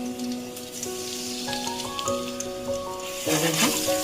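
Garlic frying in white oil in a wok, a steady close sizzle with a hissing, crackling bed and some tonal ringing on top that swells louder near the end.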